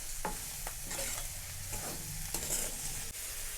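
Sprouted moth bean curry is stirred in hot oil with onion and tomato, the spoon scraping and knocking against the pan in repeated strokes over a steady close sizzle of frying.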